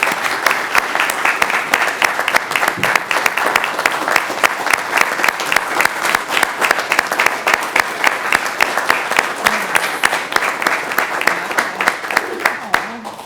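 Sustained applause from a sizable crowd at a city council meeting, steady and loud throughout with dense overlapping claps and a faint voice or two underneath.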